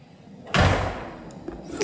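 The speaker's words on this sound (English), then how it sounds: "It's the sound of the door hitting the lock." A locked door pulled by hurricane wind bangs once against its lock with a loud, close thud, then keeps rattling under a roaring gust of wind.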